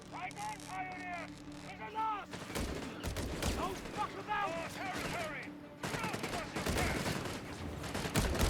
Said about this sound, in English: Sturmgewehrs blazing at those Yankee scouts.